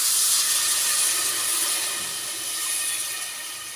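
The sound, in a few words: water poured into hot pan while cooking rice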